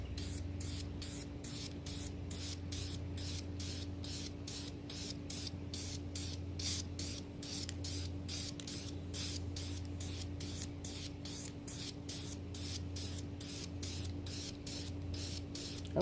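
Spray paint applied to scrying mirror glass in a rapid string of short, even hisses, about two per second, close and fairly quiet against a low steady hum.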